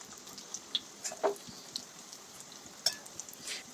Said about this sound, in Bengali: আমি আরও একটা ভেজে নিচ্ছি এখানে।